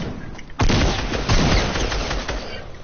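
Rockets in Fortnite blast in a loud, close barrage, with a sudden heavy explosion followed by a dense, rumbling spread of further blasts that slowly thins out.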